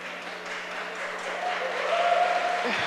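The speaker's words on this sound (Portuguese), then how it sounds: "essas palmas são para você" Audience applause in a city council chamber during an International Women's Day session, a steady broadband patter of clapping that holds for about three seconds and swells slightly toward the end, with a faint tone running underneath.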